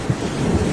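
A short burst of a heavy thunderstorm sound effect in an animated story, dense rain hiss over a low rumbling of thunder, loud and continuous.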